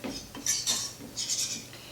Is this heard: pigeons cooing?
no